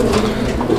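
A pigeon gives a single brief, loud, throaty coo close by.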